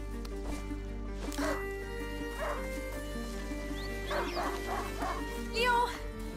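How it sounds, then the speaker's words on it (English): Hunting dog Leo barking and yipping in the video game A Plague Tale: Innocence, a few short barks heard at a middle distance over steady background music and ambience. "A hunting dog is not supposed to lose its hunter."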